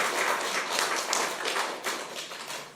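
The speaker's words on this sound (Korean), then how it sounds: "박수 좀 해주세요" A church congregation claps during a Sunday worship service, producing moderate, somewhat thin clapping from a gathered room that swells slightly and then tapers off.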